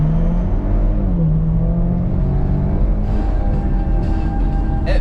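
A rented Chevrolet Camaro accelerates with the throttle floored, a loud continuous engine drone climbing slowly in pitch from inside the cabin, with road roar underneath.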